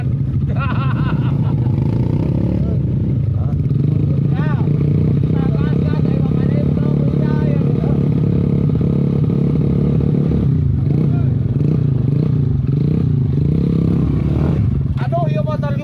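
A motorcycle engine drones steadily throughout, its pitch rising and falling as it revs, with clattering and voices mixed in around it.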